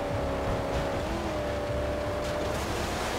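Car engine in the Mad Max video game revving steadily, a loud continuous drone with a sustained tone that rises slightly partway through, alone without talk.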